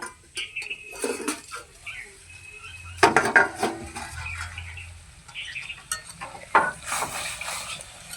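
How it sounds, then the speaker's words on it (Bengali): A metal lid is handled on a cooking pot of mete alu (yam) curry, with sharp clanks and clinks, scraping utensils and quieter gaps between the bursts. "আবারও একটু ঢাকা দিয়ে দিচ্ছি আবারও ঢাকাটাকে তুলে নেব"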